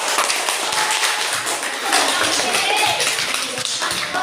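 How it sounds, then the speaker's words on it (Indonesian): Classroom applause for a student group during an elementary science teaching practice lesson: dense, sustained clapping from many hands fills the room steadily throughout, with a few faint voices underneath. "Beri aplaus dulu."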